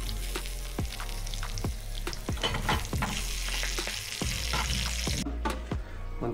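Chicken ghee roast fries in a pan with a bright sizzle, while a utensil strikes and scrapes in quick repeated knocks, close and fairly quiet. No voices are heard.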